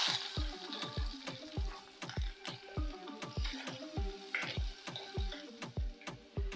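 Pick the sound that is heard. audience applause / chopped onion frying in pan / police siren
chopped onion frying in pan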